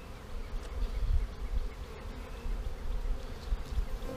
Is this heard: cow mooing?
no